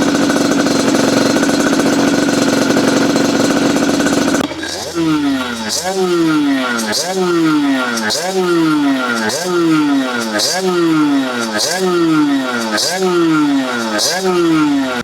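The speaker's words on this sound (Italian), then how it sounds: "dopodiché andiamo a darci un po' di gas" A 50cc enduro/motard motorcycle fitted with a new Polini exhaust revs repeatedly after a steady loud stretch, each throttle blip rising and falling in a regular sawtooth rhythm, loud and close.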